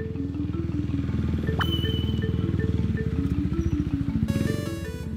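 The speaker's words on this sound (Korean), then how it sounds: "오토바이 시동 소리를 들었어요." A motorcycle engine runs near a mountain temple entrance, a close, rhythmic chugging idle that pulses steadily throughout with a few faint higher tones above it.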